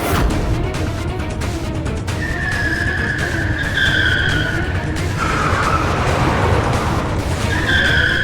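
A car skids with loud, sustained tire screeching from reckless driving. Rising squeals overlap over a steady roar of engine and road noise.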